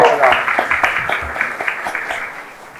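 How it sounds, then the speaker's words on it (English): Audience applause at a women's leadership conference and awards event in Dubai, a steady wash of clapping from a hall crowd lasting a few seconds, fairly loud and continuous with some individual claps standing out. "Can I have another round of applause to her?"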